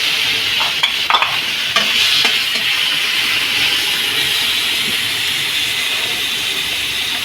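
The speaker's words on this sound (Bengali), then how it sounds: "টমেটো স্লাইস করে নিয়েছি দিয়ে দিলাম" Sliced tomatoes hit a hot frying pan and sizzle steadily with a broad hiss for the whole stretch, with a few faint clinks of stirring near the start, loud and close with no talk.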